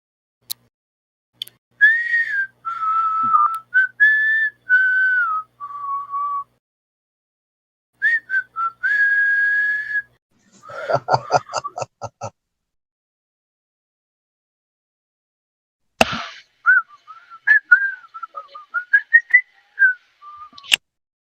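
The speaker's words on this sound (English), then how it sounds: "Why, I can do the whistle." A lone person whistles a short tune in clear, close phrases with pauses between them, broken midway by a burst of rapid clicking or tapping.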